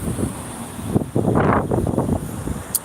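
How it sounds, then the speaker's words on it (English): Wind buffets a microphone on an outdoor walk through Tokyo's Todoroki Ravine area, a loud low roar that rises and falls in gusts, swelling strongly in the middle and continuing throughout without speech. "The wind is loud."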